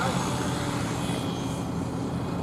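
A radio-controlled model helicopter doing normal flying at an outdoor steam and vintage show, its engine and rotor droning steadily and fairly loud throughout, with broad wind-like noise and possible faint voices in the background.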